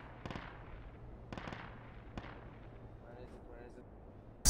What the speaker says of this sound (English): They're shooting at the APC.